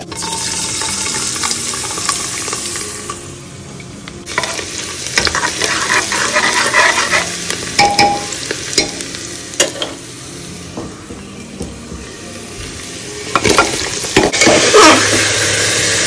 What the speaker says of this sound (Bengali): মশলা এখানে কষানো শুরু করে দিয়েছি